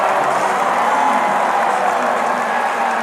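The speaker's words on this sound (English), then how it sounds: "As the crowd salute him." A large grandstand crowd applauds and cheers during Indianapolis 500 qualifying, a dense, steady wash of clapping that stays loud and unbroken throughout.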